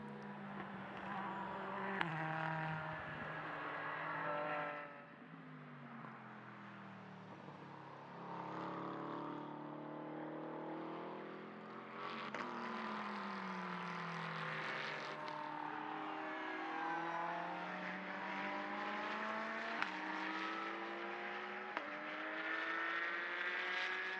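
GT race cars at the Mugello endurance race scream past one after another, their engines sweeping up and down through gear changes in overlapping waves from mid-distance, steady and fairly quiet throughout.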